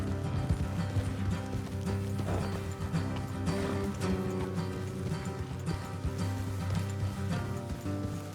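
Horses' hooves clip-clop at a steady walking rhythm in the video game Red Dead Redemption 2, close and continuous over a bed of music and ambient game sound.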